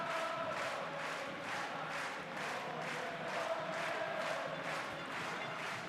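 Crowd at a French Pro D2 rugby match between Oyonnax and Valence, a steady distant roar of spectators with rhythmic pulsing chants or clapping running throughout, faint and continuous.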